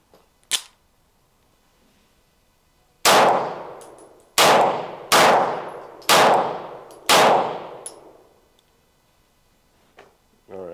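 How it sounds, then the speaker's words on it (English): A Springfield Prodigy pistol loaded with a Staccato magazine fires. A faint early click is followed by five sharp, loud shots at roughly one-second intervals, each ringing out and decaying before the next. "let's run it with a staccato mag"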